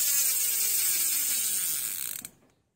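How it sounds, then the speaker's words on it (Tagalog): Fine, rapid clicking of an MT009 bicycle hub freewheel spinning down, a dense buzzing ratchet that gradually slows and fades before cutting off into silence. "Napakapino yung click niya."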